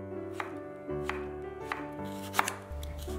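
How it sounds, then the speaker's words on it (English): A kitchen knife cuts zucchini into thin strips about two inches long, making a few soft, evenly spaced chops on a board, faint beneath steady background music. "Cut the zucchini,"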